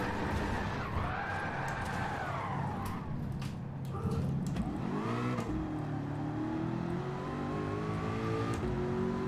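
Toyota Supra race car engine in Gran Turismo 7, revving hard with rising and falling pitch through gear changes as another car roars nearby, loud and sustained.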